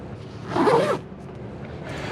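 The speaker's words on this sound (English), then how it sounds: "we also do have our zipper pouches." A zipper on a seat-back pouch of a 2021 Ford Bronco Sport is pulled in one smooth, close rasping stroke lasting about half a second, followed by quiet cabin ambience.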